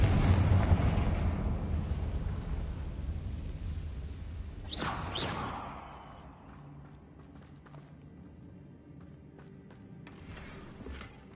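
A Confringo fire-blast spell exploding in the Hogwarts Legacy video game, a rumbling roar that swells into a sharp blast around the middle, then dies away into quieter game ambience.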